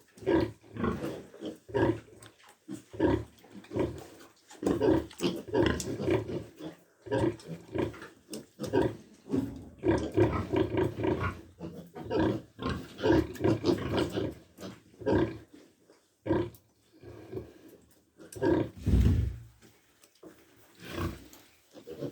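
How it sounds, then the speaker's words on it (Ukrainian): Thirteen-day-old piglets grunt and squeal in frequent overlapping bursts, close and lively, with brief pauses between clusters of noise. "Гарні і чудові поросята."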